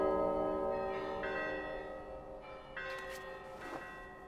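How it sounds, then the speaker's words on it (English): Resonant bells chime with long ringing tones in the video game Gris, several strikes overlapping and decaying softly at moderate loudness, heard alone without talk. "if you bait the bird into blowing hard enough, he'll activate the bells"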